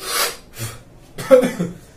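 A few rough, breathy coughs sound up close, two short ones followed by a harsher burst, the kind of cough brought on by cigarette smoke.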